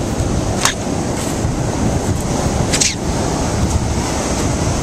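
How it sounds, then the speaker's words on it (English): Surf rolling onto West Bay Beach on Roatan in the aftermath of Tropical Storm Alex, a steady, loud wash of waves with wind buffeting the microphone and a couple of brief sharper splashes, no voices. "enjoying the aftermath of Tropical Storm Alex, soon to be Hurricane Alex, on West Bay Beach"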